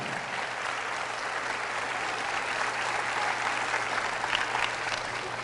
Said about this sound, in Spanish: Fuerte ese aplauso a la palabra del Señor